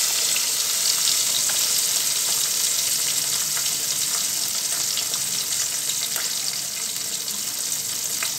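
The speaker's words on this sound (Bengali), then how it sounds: "মাছগুলোকে একটু কড়া করে ভেজে নেব।" Salted, turmeric-rubbed sarputi fish frying in hot oil, a dense continuous crackling sizzle, loud and close, running steadily without any talking.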